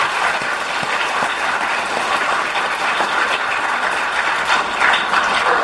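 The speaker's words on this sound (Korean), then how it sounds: "기분 좋으니까 박수 한번 칩시다." An audience of business executives at a lecture hall in Gwangju claps steadily throughout, dense sustained applause with no voices over it.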